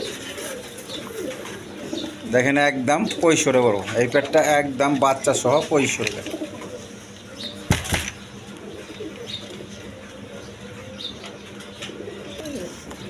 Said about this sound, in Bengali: দর্শকবৃন্দ এখানে এক পেয়ার অ্যান্ডোলেশিয়ান কালার ডেনিশ কবুতর আছে